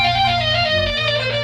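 A flute sent through guitar effects pedals, heard as a dense, sustained layered tone with stacked shimmering harmonics and a low droning undertone, loud and alone for a brief moment.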